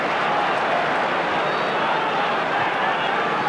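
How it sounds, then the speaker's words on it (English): A huge rugby league crowd roars in a steady, dense wash of cheering at a Great Britain match, loud and unbroken throughout. "A huge crowd obviously enjoying the match, urging Great Britain on."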